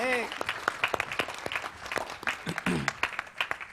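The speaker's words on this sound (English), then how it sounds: "Please a round of applause for her." Audience applause breaks out for a panelist being welcomed at a fintech challenge grand finale, steady clapping from a crowd with a voice speaking over it at the start.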